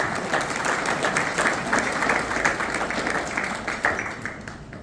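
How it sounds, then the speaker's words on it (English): Steady, dense applause from an audience at a community council breakfast, a continuous wash of many hands clapping at even loudness that fades slightly toward the end. "I wanted to ask you guys to give yourselves a round of applause for all the work that you all do."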